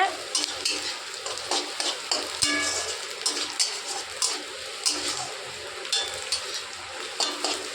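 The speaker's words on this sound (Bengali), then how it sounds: "কড়াইয়ে পেঁয়াজ নাড়ানো হচ্ছে" Onions fried together with whole garam masala in a kadai, stirred with a utensil: a steady sizzle broken by repeated scraping stir strokes, close and fairly quiet, with no talking.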